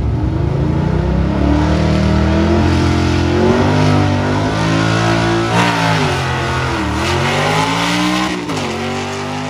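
A stick-shift drag car with a 6.2 LS engine revs hard at a dragstrip test-and-tune event, loud and close with rising and falling pitch sweeps and no talk over it.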